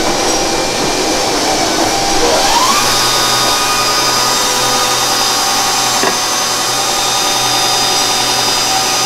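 Scandi-grind knives being sharpened on a powered grinder, a steady loud whirring grind running throughout with a brief rising tonal sweep near the start and no talk.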